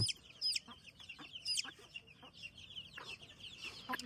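Domestic chicks clucking and peeping repeatedly in short high bursts, fairly close, with a low steady background hum and no talk.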